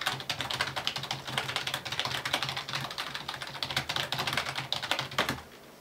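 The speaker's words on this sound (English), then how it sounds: "I can type quite fast, I don't even have to look at my keyboard." Fast, steady typing on a computer keyboard, a dense run of close, crisp key clicks lasting several seconds before stopping abruptly, with no voices.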